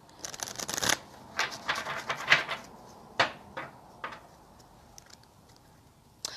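A deck of cards is shuffled by hand in a quiet room, several short riffling bursts and snaps coming close and fairly clear, spaced irregularly over a few seconds.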